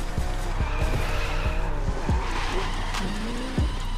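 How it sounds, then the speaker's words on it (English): A drift-build Lamborghini Aventador slides through a drift in the racing game The Crew 2, engine droning steadily with repeated short tire chirps and squeals, loud and continuous without speech. "drifting in this game is hard"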